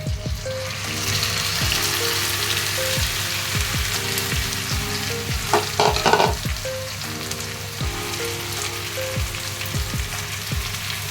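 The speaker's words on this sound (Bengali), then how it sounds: "গাজরটা আমার অনেকটা ঘিয়ের মধ্যে নাড়াচাড়া হয়ে গেছে, ভাজা হয়ে গেছে।" Grated carrot with raisins sizzles steadily in ghee in a pan while it is cooked into halwa. A spoon or spatula scrapes and taps against the pan at a regular rhythm throughout, and the sound is close and clear with no talk.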